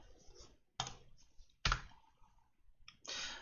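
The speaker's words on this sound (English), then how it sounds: "So I'm going to click on Done." Several sharp, close clicks of a computer mouse or keyboard, spaced irregularly about a second apart, some trailing into brief rattles, with no talk over them.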